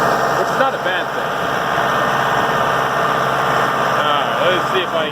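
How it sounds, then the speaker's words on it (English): A Massey Ferguson 2705e tractor engine runs with an even, continuous drone and slight vibration throughout, up close, with a voice over it. "it sounds like driving a big tractor"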